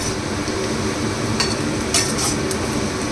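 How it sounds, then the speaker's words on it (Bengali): Chopped onions fry in oil in a pan, giving a soft, steady sizzle close by, with a few brief utensil scrapes and clinks from stirring partway through. "পেঁয়াজটাকে খুব সুন্দর করে ব্রাউন করে ভেজে নেব।"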